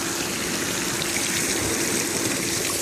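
A pool fountain fed through an adjustable valve on a DIY PVC skimmer and filter setup, giving a loud, close, steady gush and splash of water with no break and no talking.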